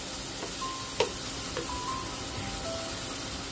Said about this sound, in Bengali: মশলা বেশ কষানো হয়ে গেছে, অনেকটা মশলা কষানো হয়েছে